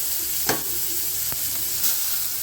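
Finely chopped onion fries in hot oil in a South Indian tempering, giving a steady close sizzle with a couple of brief stirring clicks and no speech.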